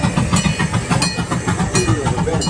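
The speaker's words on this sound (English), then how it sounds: "Oh, here's a train." A small boardwalk amusement train rolls past close by with a busy rhythmic clatter of wheels and a hiss, loud against a crowded outdoor backdrop.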